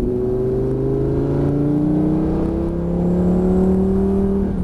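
A Lamborghini Gallardo engine accelerating steadily on the Lédenon race track, its tone rising smoothly through a gear, heard from inside at a constant, fairly loud level.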